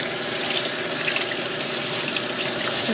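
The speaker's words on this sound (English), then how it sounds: "So rinse your asparagus out." Tap water runs steadily into a sink while asparagus is rinsed, a constant, close, hissing splash with no breaks and no talk.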